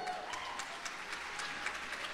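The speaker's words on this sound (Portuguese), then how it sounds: "Você pode dar um aplauso para o Senhor?" A church congregation applauding, a soft, distant wash of many hands clapping at a steady, even level, heard faintly across a large room.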